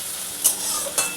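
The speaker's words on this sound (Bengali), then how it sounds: "একটু পেঁয়াজটা বন্ধুরা ভালো করে ভেজে নিই" Onions sizzling in hot oil in a pan, a continuous close fry broken by two brief scraping stirs, no talking.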